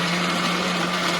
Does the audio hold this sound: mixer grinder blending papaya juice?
yes